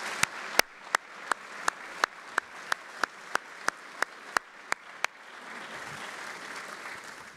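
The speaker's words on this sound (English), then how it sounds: "please join me in another round of applause for our special recipients." At a defense forum ceremony, a close, loud, evenly spaced clap sounds about fifteen times over steady crowd applause, then the general applause carries on alone and slowly fades.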